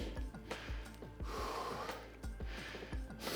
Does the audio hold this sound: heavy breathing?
yes